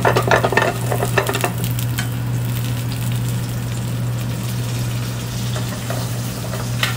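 Ginger and fresh garlic hitting hot oil in a pan for a vegetable jalfrezi, a steady close sizzle with a few quick stirring scrapes at the start over a low hum.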